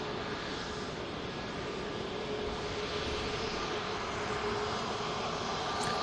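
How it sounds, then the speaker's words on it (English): A Jet2 Airbus A321neo at Manchester Airport gives a steady, loud, broadband engine roar that holds at an even level throughout, with no voices. "Beautiful Jet2 A321neo as well."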